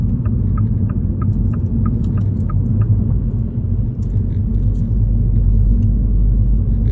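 A 2020 Mini Electric drives around a roundabout, heard from inside as a steady low road rumble and tyre noise with faint light ticking, even and continuous, with no voices.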